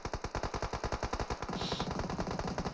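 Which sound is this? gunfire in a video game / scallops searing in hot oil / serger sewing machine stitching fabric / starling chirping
gunfire in a video game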